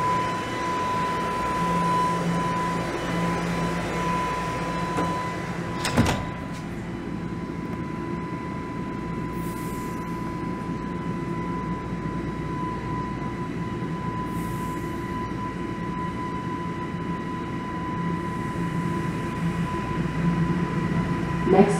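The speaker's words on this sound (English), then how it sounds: "There's a train rolling" Toronto subway train rolling into a station, a steady low rumble and rail hum running throughout with a sharp clank partway in, a constant tone above, and no talk.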